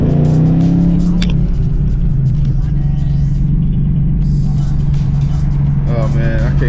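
Ford Mustang engine and exhaust idling loud with a deep steady rumble, a few throttle blips rising over it, recorded close before a muffler shop visit.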